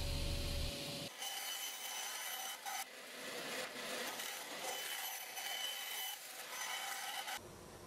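A groove is cut along the top edge of wooden panels for a small dust tongue, giving a continuous close rasping, whirring cut with brief changes in pitch and no talking.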